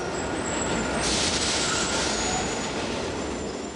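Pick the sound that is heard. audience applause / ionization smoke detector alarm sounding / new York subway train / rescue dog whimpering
new York subway train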